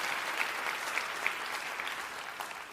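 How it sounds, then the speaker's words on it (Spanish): A church congregation claps steadily and enthusiastically, a dense wash of applause with a few sharper individual claps standing out, moderately loud and with no talking. "si vas a aplaudir, hazlo con ganas el día de hoy"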